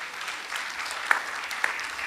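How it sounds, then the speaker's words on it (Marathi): An audience at a commemorative cultural program applauds, a steady wash of many hands clapping at moderate distance with a couple of sharper individual claps standing out. "नुसत्या टाळ्या वाजवू नका"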